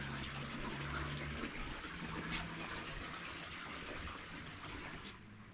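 Creek water flowing steadily beneath the Portland Arch natural bridge in an Indiana nature preserve, a continuous broadband rush and gurgle close by with no pauses.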